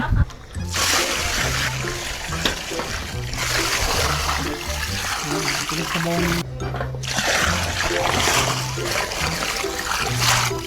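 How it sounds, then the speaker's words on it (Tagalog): Water splashes and trickles steadily into a pot for several seconds, close and fairly loud, with a person talking over it. "Lalagyan na tayo ng tubig."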